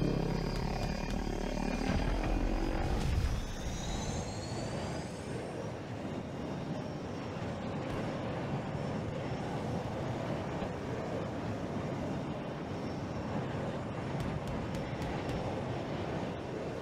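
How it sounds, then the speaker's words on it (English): A transport helicopter in the shooter Battlefield 2042 drones steadily and loudly, with a heavier burst at the start before settling into a continuous rumbling whir. "let's do a transport heli"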